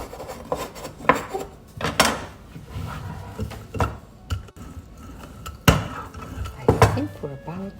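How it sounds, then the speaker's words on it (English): A bench scraper scrapes and taps around the cracked edges of crostata dough on a work surface, a series of close rubbing strokes and sharp knocks at irregular intervals, with no voice. "if you use a bench scraper, you can go around and kind of smooth these cracked edges up"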